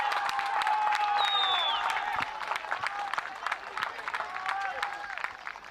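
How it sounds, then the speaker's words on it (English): A cricket crowd at a T20 international final in Valletta, Malta roars and claps in a sustained wash of cheering and whistles that swells, then settles into scattered applause, with a voice heard over it. "Just listen to the roar of the crowd."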